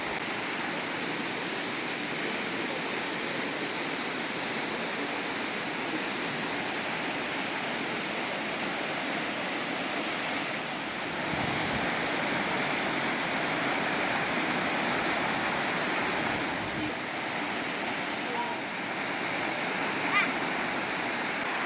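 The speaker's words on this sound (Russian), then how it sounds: "Водопад, конечно, красивый." Steady, loud rush of a waterfall near Mersin, Turkey fills the whole stretch, a constant broadband roar with slight swells and no voices.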